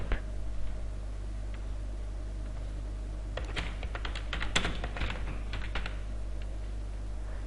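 Keys clatter on a computer keyboard as Java code for a rock-paper-scissors game is typed, with sparse taps early, then a dense burst of quick clicks in the middle and scattered keystrokes after. A steady low hum sits underneath, and no one speaks.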